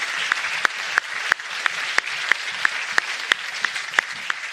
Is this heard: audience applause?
yes